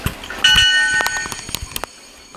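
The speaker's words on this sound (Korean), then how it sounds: "기차 운전하는 거야?" A train game in a kids' app on a Samsung Galaxy Tab 3 plays a synthetic train whistle and chiming bell tones, followed by a series of sharp clicks and taps before it falls quiet.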